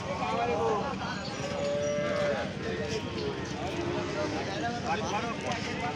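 Cattle moo repeatedly at a cattle market over a busy, crowded din, with people talking throughout and long, low calls rising from the bustle.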